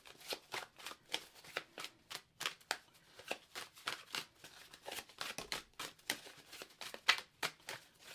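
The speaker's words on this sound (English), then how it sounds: "how is she shuffling with all them cards?" A large deck of cards being shuffled, close and alone, with a steady run of quick riffling flutters and soft slaps, with no talk.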